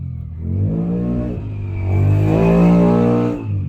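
Motorcycle engines revving on the road outside a house, a steady rising and falling engine drone with harmonic whine, swelling louder in the middle, heard from indoors with no talk.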